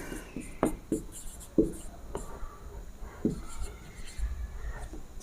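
Pen writing out a math problem on paper, scratchy strokes and taps in short bursts, heard close and fairly quiet under a soft room hiss.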